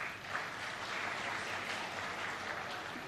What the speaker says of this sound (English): when you feel like clapping, clap loudly